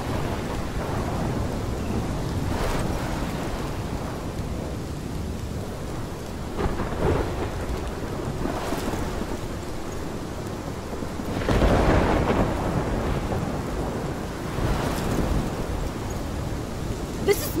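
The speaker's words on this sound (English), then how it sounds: "This is my storm." Thunderstorm in the video game Life Is Strange: steady heavy rain hiss under repeated rolling thunder cracks, with one especially loud close rumble near the middle, no voices.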